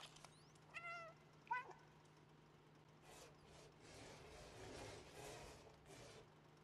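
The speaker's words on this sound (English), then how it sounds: "I'm gonna meow at the door because I'm a dumbass cat." A cat meows twice at a door in the video game Stray, two short rising calls early on, then soft game ambience and shuffling with a low steady hum underneath.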